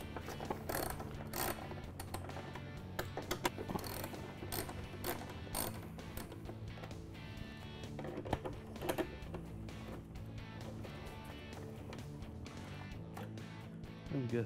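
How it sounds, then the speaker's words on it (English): A ratchet with a half-inch socket clicks rapidly and continuously, removing the large cables from a Navitas controller on a Club Car golf cart; the quiet, close mechanical ticking has no speech. "Now using a half inch socket,"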